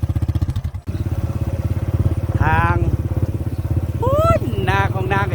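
A motorbike ridden on a rainy day in the countryside makes a steady, close, putting engine drone throughout, while someone talks over it.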